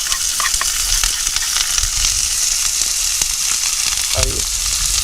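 Chopped onions fry in a pan in a home kitchen, giving a steady, loud sizzle with occasional scraping stir clatters near the end; no one speaks.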